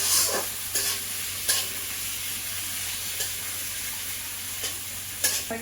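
Tomato being stirred into a hot frying pan, with a steady sizzle and frying hiss and a few sharp scrapes of the spoon against the pan at irregular intervals, close up with no talking.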